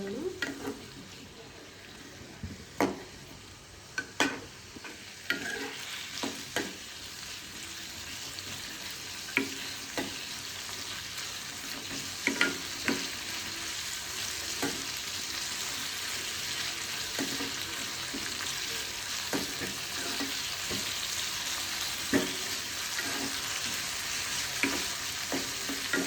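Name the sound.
tomatoes frying in a pan for egg sambar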